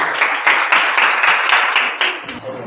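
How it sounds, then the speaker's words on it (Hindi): Classroom clapping for a student, a short burst of fairly close hand claps with a pulsing rhythm that fades at the end. "ओके, राधा के लिए तालियां।"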